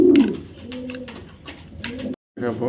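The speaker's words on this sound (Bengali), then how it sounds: "একদম লাইট রেড চেকার একটা নর কবুতর" A light red checker male racing pigeon coos nearby in a few soft, throaty, repeated bursts, separated by short pauses.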